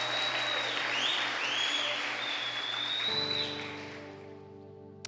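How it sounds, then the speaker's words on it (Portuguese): A church congregation claps together in sustained, dense applause that slowly fades, then gives way to soft sustained keyboard tones. "Dá uma salva de palmas aí pela vida de vocês."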